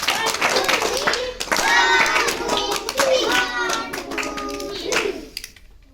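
Children in a village school classroom clapping in applause, with scattered claps mixed into lively chattering kids' voices throughout.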